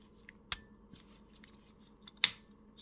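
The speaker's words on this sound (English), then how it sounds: "it'll kind of just click back into place like so" Neck assembly of an Aibo ERS-220 robot dog being pressed back into place, two crisp distinct clicks about two seconds apart, close and quiet, with faint handling noise between them.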